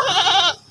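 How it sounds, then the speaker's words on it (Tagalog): A goat bleats once, a short wavering cry close by and fairly loud, followed by a brief pause and the start of another sound, with no talk. "Yung kambing, oh."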